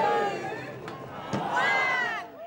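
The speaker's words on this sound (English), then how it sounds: "Opening the gates and unleashing a crowd racing to get the best spots." A crowd surges through newly opened gates at the Taste of Tasmania festival, with dense cheering and excited shouting from many voices and a few sharp knocks, loud and close throughout.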